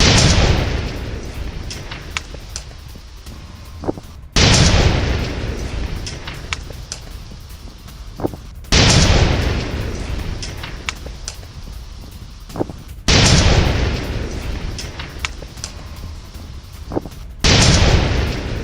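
Missile-attack explosions from news footage: loud booms with broad rumbling bursts, each followed by a long decaying roar, repeating about every four seconds over a continuous noisy bed.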